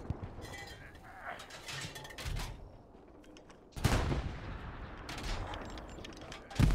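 Artillery guns fire high-explosive rounds in the World War II game Hell Let Loose, with scattered reports at first, then a heavy, close blast near the middle and more loud bursts near the end, under light background gunfire and voices.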